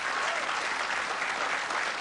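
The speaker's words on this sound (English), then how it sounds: "Give him a round of applause." A studio audience at a talk show applauds in a continuous even wash of clapping, moderately loud and unbroken for the whole stretch.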